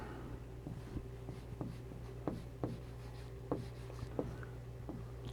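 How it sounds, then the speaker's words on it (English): A pen scratches quickly across a surface, close and faint, writing single words, with short repeated strokes and taps in an irregular rhythm over a low steady hum. "I'm going to write in single word"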